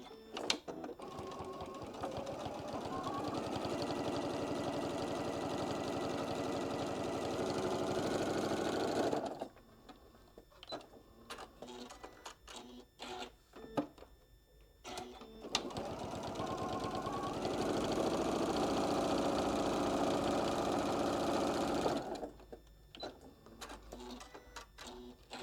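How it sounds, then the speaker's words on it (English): A sewing machine stitching down both sides of a fabric scissor pouch: two long, steady motor runs of rapid needle whirring, separated by a pause with handling clicks and rustles, close and clear. "I'm just going to just do a stitch down both sides, about of 1/8 of an inch down."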